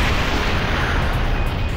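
A big cannon ultimate attack from a Naruto video game erupts as a continuous loud booming roar, dense and rumbling, with no speech over it.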